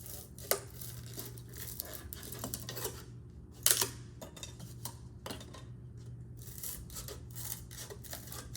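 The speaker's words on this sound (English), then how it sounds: "And you just cut off the edges." Scissors or a blade cut the edges off a styrofoam grocery meat tray, giving faint scratchy snips and rubbing scrapes with a couple of sharper clicks in a quiet room.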